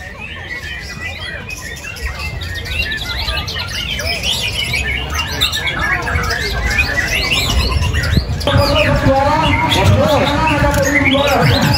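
White-rumped shama (murai batu) singing at an Indonesian bird-song contest, loud varied whistles and chattering phrases running continuously over a crowd's background hubbub, with more birds calling nearby.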